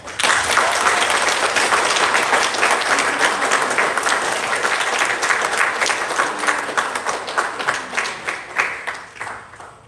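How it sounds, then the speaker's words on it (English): An audience at a school student convention gives a sustained round of applause, dense and loud from the start, then thinning into scattered individual claps as it fades toward the end. "let's give one final round of applause for everyone and their hard work"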